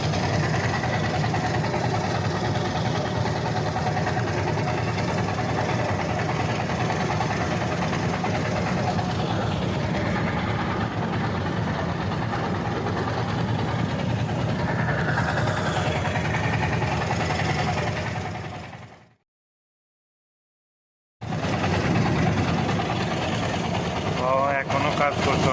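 A trawler boat's engine drones loudly and steadily nearby on the river at a stone-quarrying site, with a voice talking over it. The sound cuts out briefly near the end and then resumes.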